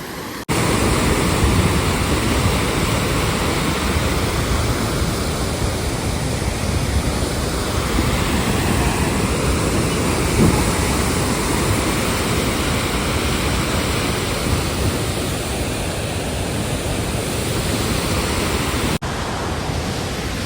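The Mahisagar river in monsoon flood, near the Vanakbori dam, sends up a loud, continuous rushing roar of fast water that fills the whole stretch without letting up.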